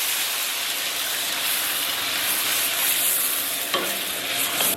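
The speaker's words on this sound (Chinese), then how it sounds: "简单给它煸炒一下" Pork ribs stir-frying in a wok for sweet and sour ribs, a steady close sizzle and hiss of hot oil with stirring scrapes throughout and one sharper clatter near the end.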